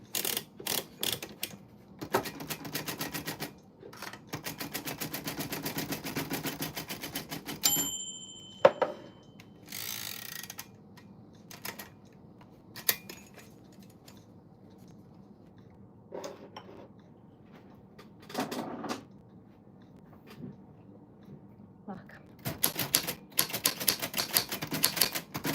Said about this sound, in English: I am going to get the typewriter set up.